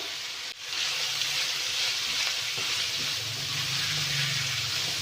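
Vegetables sizzle loudly in a hot pan with crushed red chilies, black pepper, chicken powder and salt while being sautéed for corn macaroni, a steady close frying hiss with a brief stir near the start.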